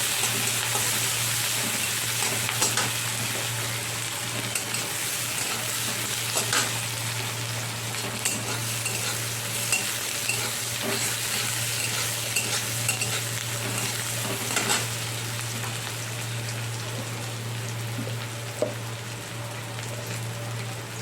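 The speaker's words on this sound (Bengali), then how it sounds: "পেঁয়াজ ভালো করে ভেজে নিই" Onions fry in a pan with a continuous close crackling sizzle, like rain on a surface, and occasional light clicks of stirring over a steady low hum, with no voices.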